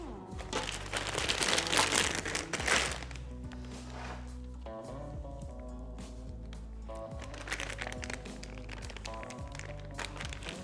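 Close crinkling of a plastic piping bag for a few seconds in a bakery, followed by quieter handling noises and faint knocks.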